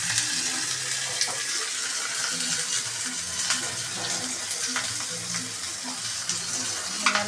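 Cumin seeds, curry leaves and green chili sizzling in hot ghee, a steady bright crackling hiss with small pops, close and even throughout.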